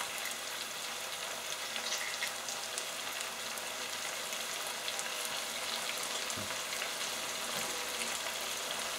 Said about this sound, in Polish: Wszystko przemieszam i będę podsmażała do momentu, jak jabłka lekko zmiękną.